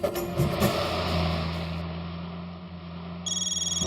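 A phone on speakerphone ringing in a comedy scene, with faint electronic ring tones over a low hum and a brighter repeating ring that starts near the end.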